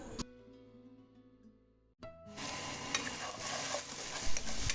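Onions, mustard seeds and garlic stirred in hot oil for a Sri Lankan crab curry, a loud close sizzle that bursts up after a quiet pause and keeps crackling steadily with scraping stirs.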